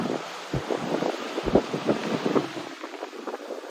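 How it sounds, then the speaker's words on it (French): Gusty wind blows outdoors by the ocean, buffeting the microphone with uneven low rumbles and bursts over a faint wash of surf, with no voices. "il y a peut-être un peu de vent, là"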